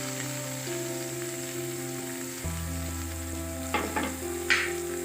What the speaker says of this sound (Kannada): ಎಣ್ಣೆ ಕಾದ್ಮೇಲೆ ಸ್ವಲ್ಪ ಗಾರ್ಲಿಕ್ ಪೇಸ್ಟು, ಶುಂಠಿ ಪೇಸ್ಟು, ಮತ್ತು ಚಿಲ್ಲಿ ತುರಿದಿಟ್ಕೊಂಡಿರೋ, ಸಣ್ಣಗೆ ಹೆಚ್ಚಿಟ್ಕೊಂಡಿರೋ, ಮತ್ತು ಜೊತೆಗೆ ಆನಿಯನ್